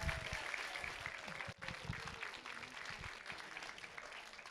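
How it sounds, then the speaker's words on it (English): Audience applause for the Tualatin High School band at a grand opening event, a steady wash of clapping held for several seconds with a brief dip midway, moderately distant. "Please join me in a round of applause for our Tualatin High School band led by Reggie Stegmeyer"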